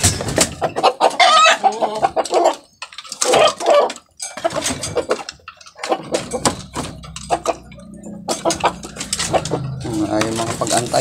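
Chickens cluck and squawk close by while eating feed mixed with rice, with a rooster call among them and a person talking over the flock.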